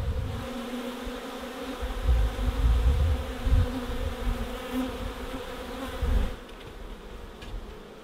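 Honeybees buzz steadily around summer beehives near a cabin, a dense, continuous drone close to the listener with no voices.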